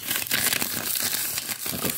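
Paper-foil chocolate packaging crinkles close by in continuous crisp bursts.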